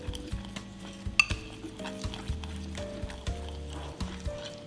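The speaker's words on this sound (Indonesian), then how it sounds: "Lalu kita aduk-aduk. Aduk kasar saja." A utensil roughly stirs shrimp in a flour-and-water batter in a bowl while sushi rolls are being prepared, giving rhythmic scraping and tapping strokes over steady background music.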